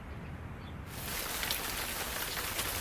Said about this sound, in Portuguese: após o Natal, estava chovendo muito forte.